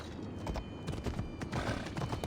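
A horse galloping in Assassin's Creed Odyssey, rapid drumming hoofbeats rolling continuously over a dense game soundscape, loud and close throughout the short stretch.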